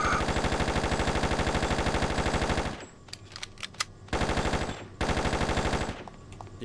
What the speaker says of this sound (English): Yeah, shots fired.